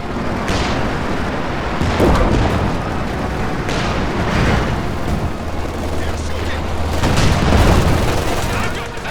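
Tank shell fire and explosions in Company of Heroes 2 as a round strikes an MG-42 machine-gun position behind a bunker: repeated loud booms and blasts over a continuous battle din, with voices talking throughout.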